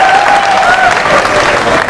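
Loud, dense applause from a studio audience greeting a quiz contestant's correct answer, continuous clapping close up with a whistle-like tone threading through the first second.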